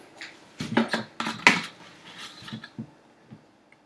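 A few scoops of protein powder go into a chocolate smoothie: scattered clinks and scrapes of a scoop against a container, in separate knocks with short pauses, close and moderately loud, no talking.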